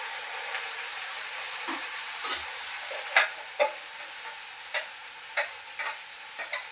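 Masala frying with roasted onion in a pan for misal, a steady sizzling hiss with irregular scraping taps of a spoon as it is stirred, close and continuous.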